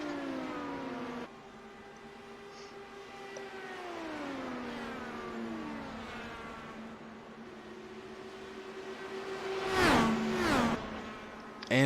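IndyCar race cars lapping Texas Motor Speedway in a racing video game, their steady high engine whines bending in pitch as they run, with one car roaring close past near the end.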